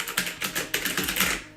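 Typing on an inexpensive mechanical keyboard with round keycaps, a quick close run of clacky keystrokes, about a dozen sharp presses in an uneven rhythm, loud and alone.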